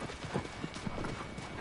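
Horse hooves clip-clopping in Shadow of the Colossus, a steady quick rhythm of close hoofbeats on hard ground mixed with game ambience and no talk.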